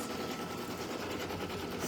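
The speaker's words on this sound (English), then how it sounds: "your machine is having to stitch" A sewing machine stitches through the layers of a stuffed toy in a steady, continuous whir, close and alone with no voices.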